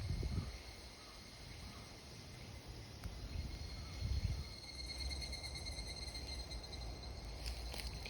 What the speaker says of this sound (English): In the background, of course, you can hear the cicadas.